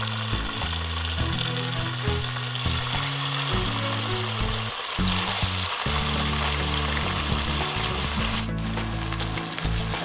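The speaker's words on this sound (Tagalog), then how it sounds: "unahin nating iprito ang chicken" Chicken pieces for butter chicken sizzle and fry steadily in a pan, a loud continuous crackle with bursts of spattering oil throughout, no voices.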